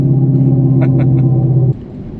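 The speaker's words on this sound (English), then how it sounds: "I enjoy the car noises" A Dodge Charger Scat Pack engine idles with a low, steady, loud rumble close by, then abruptly cuts off, leaving quiet background noise.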